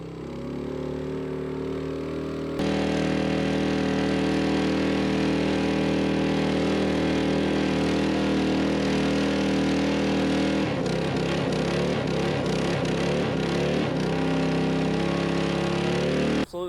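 A homemade yard-built jet boat engine free revs loud and close, holding a steady droning roar before its pitch wavers and pulses toward the end, with no voices.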